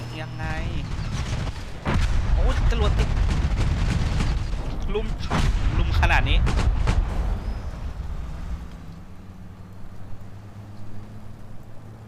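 Tank cannon fire and explosions in the video game War Thunder during a modern tank match, with heavy booms and bursts of fire close and loud, under an excited commentator talking.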